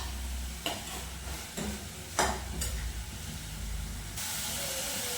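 Chopped fresh coriander hisses and sizzles in hot tempering (tadka) for dal in a Punjabi home kitchen, a soft steady frying sound broken by a few sharp stirring scrapes.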